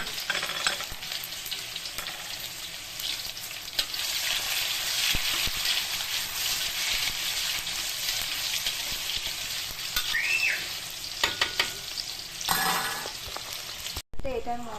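Whole spices, cumin, bay leaf, cloves, cardamom, cinnamon and dried chilli, fry with tomato in hot oil, a steady loud sizzle with stirring scrapes and a few sharp clicks, broken by a brief whistle-like tone.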